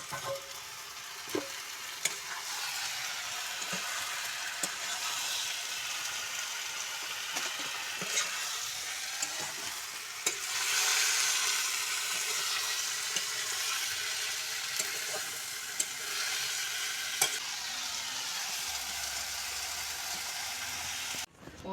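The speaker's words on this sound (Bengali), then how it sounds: "এবার আমি ঢাকনা খুলে নেড়ে নেব" Telakochu greens, fresh from a garden, fry and sizzle steadily in a pan. A spoon stirs through them with occasional scrapes, heard close up with a continuous hiss and no voices.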